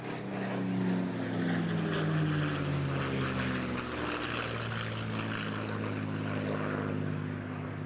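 A Merlin-engined propeller aircraft, delivered in 1951 to the Royal Canadian Air Force, passes at the Eastbourne International Airshow with a loud, droning engine note whose pitch bends down as it goes by, then holds steady.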